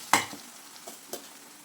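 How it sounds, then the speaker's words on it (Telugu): Garlic paste frying with onions in a pan: a soft background sizzle broken by a sharp stir scrape near the start and two lighter scrapes later, close and brief. "ఉల్లిపాయలతో కలిపేసి కొంచెం బాగా వేగనివ్వండి"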